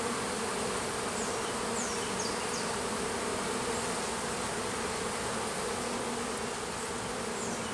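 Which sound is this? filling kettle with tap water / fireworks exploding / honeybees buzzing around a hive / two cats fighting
honeybees buzzing around a hive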